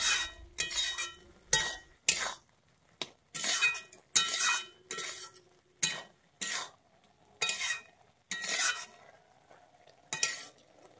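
A spatula scrapes and stirs a thick, nearly dry banana stem and shrimp curry in a pan, a dozen or so distinct strokes in an uneven rhythm with short silent gaps, close up and unaccompanied by talk.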